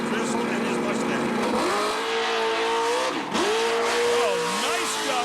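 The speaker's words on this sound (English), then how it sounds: "And talk about doing a huge wheel stand." A small-tire drag car with an exhaust system revs and launches into a wheel stand at a wheel stand championship in Byron, Illinois, its engine note climbing and dipping in sweeping pitches, with a commentator talking over it.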